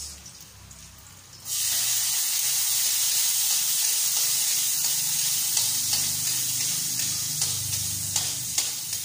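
Garlic and onion sizzle hard in a hot frying pan, a loud steady hiss bursting in after a quieter start and holding close and continuous with small crackles.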